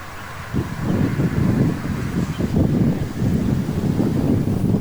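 Strong wind buffets the microphone in a steady, rumbling roar with gusty swells, no voices present.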